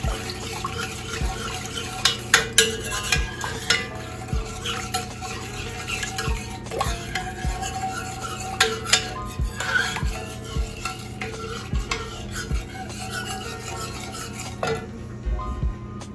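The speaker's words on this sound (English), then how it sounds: "We're gonna stir in the apple juice" Apple juice stirred into an apple cobbler mixture in a pot, giving a steady wet swishing with scattered clinks of a utensil against the pot, close and moderately loud, with no talking.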